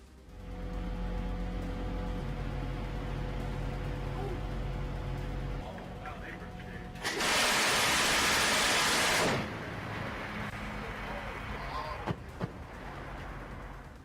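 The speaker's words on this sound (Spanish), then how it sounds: "Lo que acabas de escuchar es el rugido de una" Shipborne MK-38 machine gun firing at sea, a loud sustained burst of roughly two seconds standing out above a steady rumble of engine and wind noise, with a few sharper knocks trailing afterward.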